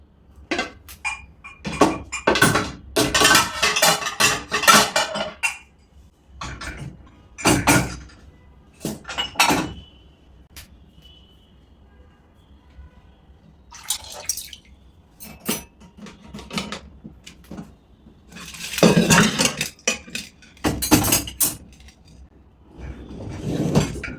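Big cooking pots and mugs are loaded into the racks of a two-rack Midea dishwasher, with bursts of clattering metal and ceramic knocks and short scrapes broken by quiet gaps, close by with no talk.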